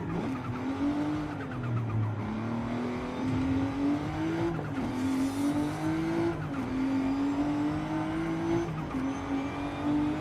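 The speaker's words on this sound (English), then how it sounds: "I'm driving a car." A car driving in Forza Horizon, its engine holding a steady droning note that rises and dips through gear changes, with faint tire noise and no talk, continuous and close.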